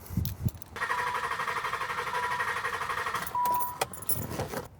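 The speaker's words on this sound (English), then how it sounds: "And I'll be cranking it." A car with a no-start fault cranking during a battery-cable voltage drop test: after a few clicks and rattles, the starter whirs in a rapid, steady rhythm for about two and a half seconds, then stops with more clatter, no talking.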